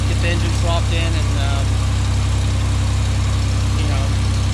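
A 1992 Camaro RS engine idles steadily with a small exhaust leak, a continuous low rumble with faint ticking puffs, loud and close throughout.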